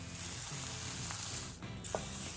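Food sears on a hot grill pan in a café kitchen, giving a steady, close hissing sizzle with a brief dip and a small clink near the end.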